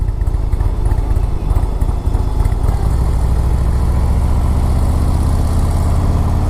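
A Harley-Davidson Low Rider S motorcycle on the move gives a loud, continuous engine drone with heavy low rumble and rushing wind noise, steady throughout, with no talking.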